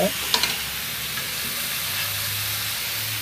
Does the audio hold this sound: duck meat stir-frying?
yes